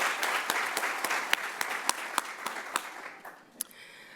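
Scattered applause for award recipients at a college of education honors day ceremony: quiet, evenly spaced claps from a modest crowd, continuing for a few seconds and tapering off.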